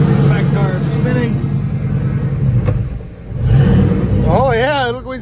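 A turbocharged LS engine in a Caravan revs in steady surges, loud and close, with rising and falling pitch as the back tires spin; people talk over it.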